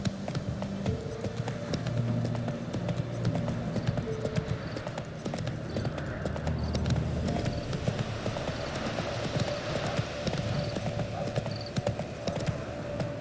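Horse hooves clip-clop at a steady gait in The Witcher 3, the rhythmic clatter running the whole time over a continuous game ambience with an occasional whinny.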